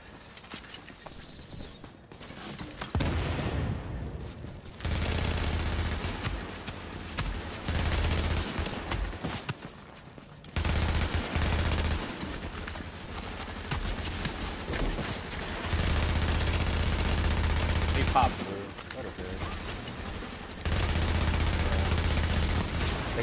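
Shotgun fire in a video game: repeated bursts of loud blasts and rapid gunfire come in several dense volleys separated by short quieter gaps, with no talk.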